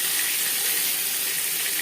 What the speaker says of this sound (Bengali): জ্যান্ত মাছ তাই আমি একটু হালকা করেই ভেজে নিলাম।